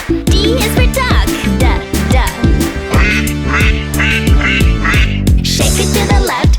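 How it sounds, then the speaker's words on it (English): Duck quacks ring out in quick repeated bursts over a bouncy children's song about animals, with music playing loudly throughout. "D is for duck. Quack, quack."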